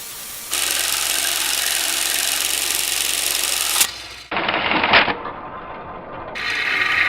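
A 2000 grit belt grinder runs steadily while a hand-forged blacksmith fork is polished, a loud continuous whine that cuts out abruptly, then returns rougher and with a brief scrape before starting up again.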